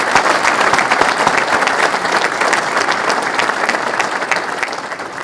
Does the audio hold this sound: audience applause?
yes